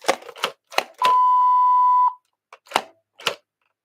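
A single steady electronic beep lasting about a second, clear and close, between brief bursts of nearby speech.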